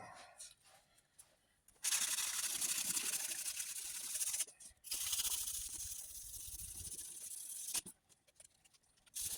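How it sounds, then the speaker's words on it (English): Bursts of water sprayed onto a car body panel ahead of wet sanding with 1,000-grit paper on a rust hole repair, hissing loudly for a few seconds at a time with short quiet gaps between. "Shoot a little bit of water on here."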